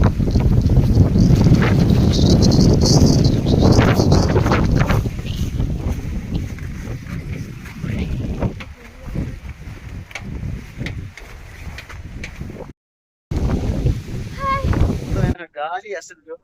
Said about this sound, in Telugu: వర్షం అయితే తగ్గింది, కానీ విపరీతమైన గాలి అయితే వచ్చింది